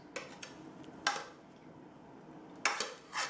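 Metal utensils clink and scrape against cooking pans as chicken biryani is moved from one pot into two pans; a few sharp clatters stand out over a quiet room, with no talking.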